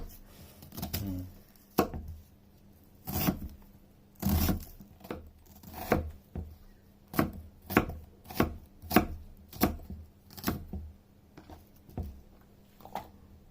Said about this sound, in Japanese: Slice onion, なんていうの、みじん切りより大きめ、 like cut like this big.